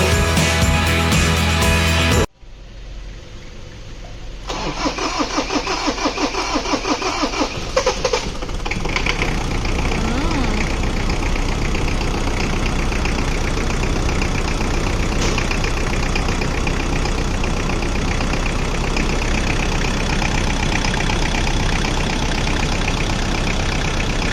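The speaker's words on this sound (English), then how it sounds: "As the engine roared back to life" A car engine cranks and catches after a brief pause, then settles into a steady, loud idle that runs on unchanged.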